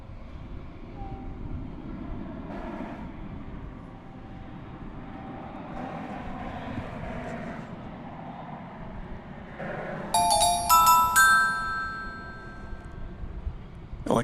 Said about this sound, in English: cleared for takeoff for American 1228